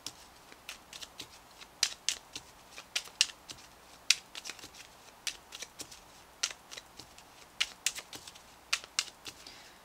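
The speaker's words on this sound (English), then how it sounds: "let me go ahead, Virgo, and pull you a C Melodies Oracle card" A deck of oracle cards being shuffled and a card pulled, giving irregular crisp flicks and soft slaps close up, quiet between sharp clicks, with no talking.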